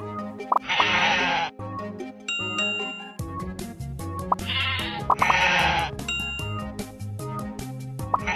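Synthesized sheep bleats repeat in a game-like loop over chiming tones and bouncy electronic music, from a children's phonics reading game, Teach Monster to Read.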